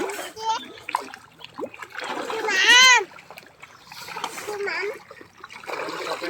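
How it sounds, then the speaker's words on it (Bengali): Fish in a pond splash at the surface as they take feed, scattered near splashes and trickles under excited talk from adults and a child. "এই যে মাছগুলো খাবার খাচ্ছে, দেখো দেখো দেখো দেখো।"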